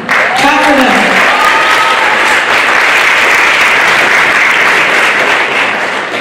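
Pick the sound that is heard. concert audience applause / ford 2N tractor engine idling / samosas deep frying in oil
concert audience applause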